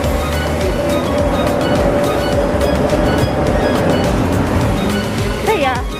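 A Singapore MRT metro train passes with a loud, steady rumble and a broad rushing roar that lasts throughout, with a brief faint squeal near the end.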